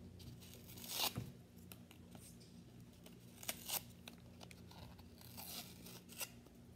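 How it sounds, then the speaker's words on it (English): An older container of slime being opened, with quiet crinkly tearing and crackling bursts that come in a few separate clusters over a faint steady background hum. "That's my sister opening up some slime."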